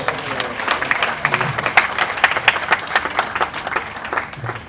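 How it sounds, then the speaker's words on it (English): A crowd at a large public event, attended by dignitaries, breaks into steady, dense applause, with many hands clapping together in a continuous rattle that swells and dips slightly throughout. "Please give all of them a resounding round of applause."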